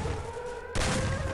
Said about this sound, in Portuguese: Parece que eu acertei um tiro, deixa eu ver.